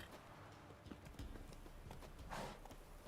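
Horse hooves clip-clop in an uneven rhythm, faint and slightly distant, with no talking, in the video game The Witcher.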